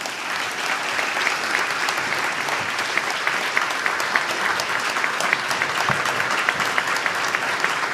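Dense, steady applause fills a large hall at the close of a presidential speech by Javier Milei at CICYP 2025, with many hands clapping continuously at an even, loud level throughout.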